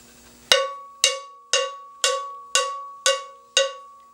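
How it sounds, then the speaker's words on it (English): A large piece of hardened metal struck with a stick rings out in seven loud, bright, cowbell-like hits at a steady beat, each sharp attack decaying into a sustained metallic ring. "It's a big piece of hardened metal, and you hit it with a stick."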